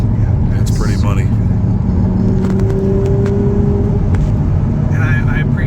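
An Audi R8 is driven along mountain roads in the Ozarks. Its engine holds a steady, loud rumble from inside the car, with a tone that climbs partway through, while voices talk over it.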